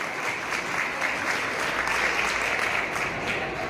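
Steady, dense applause from an audience at a Kshatriya Khangar community ceremony in Kota, sustained evenly throughout with no pause.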